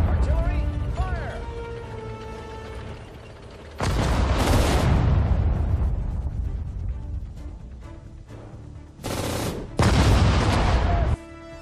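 Artillery fire in the Sudden Strike 4 strategy game, set in the Battle of Hürtgen Forest: loud booming blasts and rolling explosions with mechanical clatter, several heavy impacts in bursts, mixed with game voices and sound effects.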